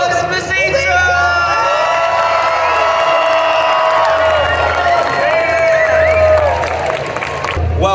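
A Comic Con convention crowd in Brussels cheers, whoops and applauds as a guest arrives on stage, a loud, sustained roar of many voices with shouting throughout.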